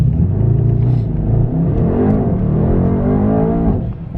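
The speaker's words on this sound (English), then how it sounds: "let's go take out the Huracan and drive it some fun roads" A Lamborghini Huracan drives on winding roads in Southern California, its engine a loud, deep, steady rumble heard from close by, with the pitch rising and falling as it revs and runs on, and no talking.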